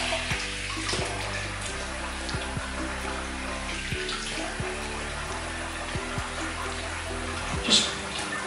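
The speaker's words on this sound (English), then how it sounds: "I'll rinse off." Lukewarm tap water runs steadily into a basin for rinsing after a wet shave with soap and a razor, a continuous broadband splash and trickle with faint low hum beneath it, no voices.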